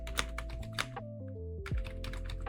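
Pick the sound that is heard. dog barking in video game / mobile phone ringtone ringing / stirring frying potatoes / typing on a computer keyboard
typing on a computer keyboard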